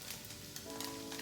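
Tofu sizzling in a hot pan during curry cooking, a steady faint hiss with soft stirring scrapes, no voices.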